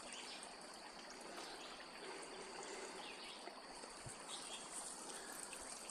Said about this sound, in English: This creek here is connected to the other side of my building.